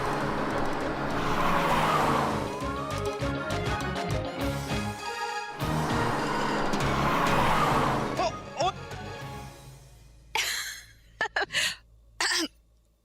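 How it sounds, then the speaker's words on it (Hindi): A car skids to a halt inside a loud, dense dramatic mix, followed by a few sharp, choppy bursts as the scene goes quieter. "देखा क्या कहा था, रुक गई गाड़ी।"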